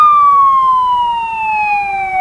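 Lyon Mountain Volunteer Fire Company Engine 241 rolling by in a parade, its siren holding a single loud tone that slowly sinks in pitch, with a low engine rumble beneath and no talking.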